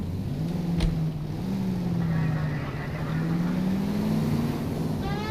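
A car from the game L.A. Noire runs with a steady low engine drone that rises and falls gently, a faint sharp knock near the start and a higher whine coming in near the end, no talking.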